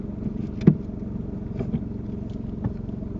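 A car pulling away during a UK driving test, a low, moderately loud engine hum with a soft thump near the start and faint clicks, heard from inside the car.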